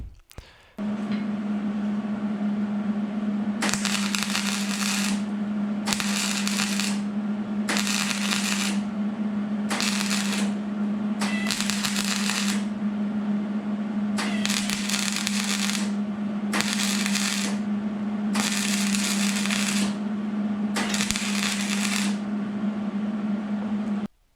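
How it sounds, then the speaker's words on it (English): MIG-style welding on a MagnaFlow muffler exhaust of a 1998 Chevy Blazer, a steady buzzing hum overlaid by repeated crackling, sizzling bursts of a few seconds each, close and loud with no talking. "we'll finish welding"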